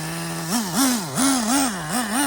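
Small Traxxas Slayer nitro RC truck engine buzzing close by, its high whine swinging up and down in repeated quick blips as the throttle is worked, with no talk.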